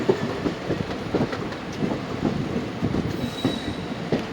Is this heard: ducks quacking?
no